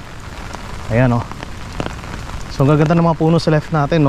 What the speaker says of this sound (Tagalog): So umuulan, malakas.